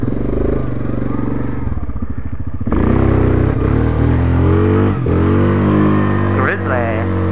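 A 1997 Yamaha Big Bear ATV rides along a washed-out trail, its engine droning loudly and revving up and down throughout, close to the microphone.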